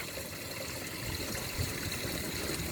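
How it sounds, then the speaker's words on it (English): Water pouring into the vortex chamber of a raised koi pond filter, a steady close splashing gush with bubbly churning, constant throughout and alone. "So water's coming in the vortex"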